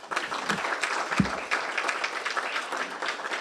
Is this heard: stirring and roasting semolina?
no